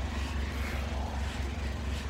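Honda S660 fitted with an HKS muffler gives a steady, loud, low exhaust drone that holds evenly throughout, with no voices.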